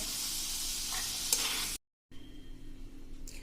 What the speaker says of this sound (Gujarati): તો હવે એને આપણે 1 મિનિટ સાંતળીને લઈ લેશું